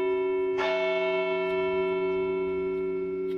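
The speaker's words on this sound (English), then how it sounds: "For parishioners of Our Lady of the Rosary Church in Springfield, these bells symbolize the end of an era." Church bells of Our Lady of the Rosary Church in Springfield ring out, one strong strike whose tones hang and slowly fade, with a fainter later stroke, clear and resonant with no talk.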